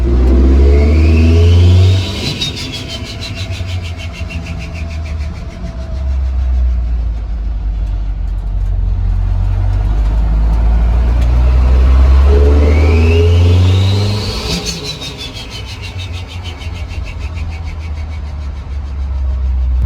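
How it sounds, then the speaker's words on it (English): A turbocharged 1.8T-swapped Mk3 MR2 revs and pulls loudly through gear changes, with a rising whistling turbo whine twice as it accelerates, heard close and continuous. "Make some turbo noises, that's for sure."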